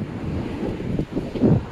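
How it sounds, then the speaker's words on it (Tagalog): Wind gusting beside a river next to a house, a steady low buffeting rumble across the microphone that swells in short gusts near the end, with no talk. "Mahangin lang po dito sa may kawa."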